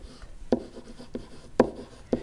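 Marker or chalk strokes on a board during a trigonometry lesson on tangent ratios, a few short scratchy bursts close by in quick succession with brief pauses between.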